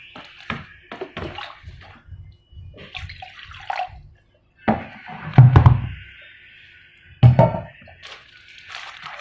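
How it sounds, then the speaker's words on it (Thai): Water is poured for making Shan-style pickled mustard greens, coming in a few short splashing gushes with knocks and thuds between them, close by and with no talking. "ใส่น้ำเย่านะครับ"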